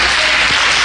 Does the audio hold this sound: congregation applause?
yes